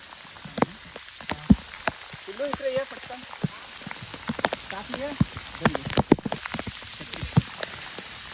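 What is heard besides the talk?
heavy rain falling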